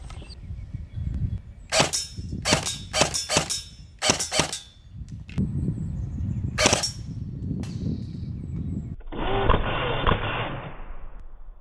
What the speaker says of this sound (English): I'm going to take him out semi-auto first. 1 shot, 1 kill.